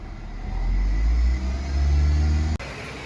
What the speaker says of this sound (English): So I'll get a little more RPMs here.